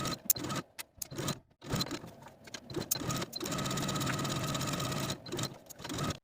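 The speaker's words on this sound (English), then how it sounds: "you're going to edge stitch close to this inner fold all the way around your rolled hem" A sewing machine edge stitches a rolled hem on a ruffle, close and quiet, running in short bursts with pauses and then one longer steady run, with no talk.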